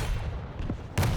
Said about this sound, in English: Oh, good rocket from Python.